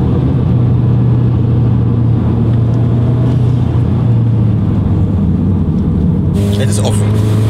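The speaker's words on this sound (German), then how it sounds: "Jetzt die Frage, was der Auspuff offen macht." A deep, loud Volkswagen GTI exhaust with Armytrix valve flaps open rumbles steadily at idle, throaty and close, continuing throughout.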